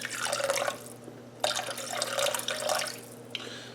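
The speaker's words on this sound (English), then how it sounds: "I'm gonna add a little bit of water to it." Water pours from a tap in bursts into a pot holding chicken, to start a stock for a Cajun gumbo, splashing and trickling close by in three short runs over a low steady hum.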